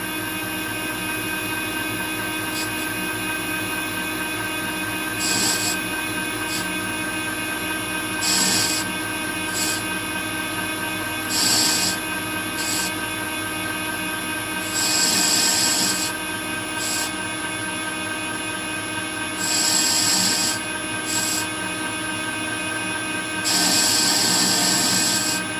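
A lathe machines a chamfer on a nut housing during a mill restoration, a continuous mechanical hum with recurring brighter bursts of cutting noise every few seconds.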